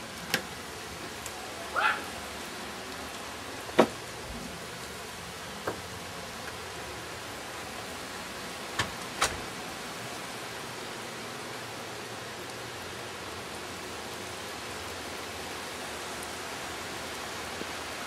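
Steady pouring rain in an outdoor rainstorm, a continuous broadband hiss holding at an even, moderate level with a few brief knocks and taps scattered through it.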